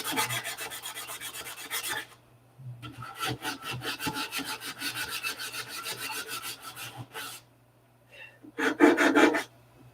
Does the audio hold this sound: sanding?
yes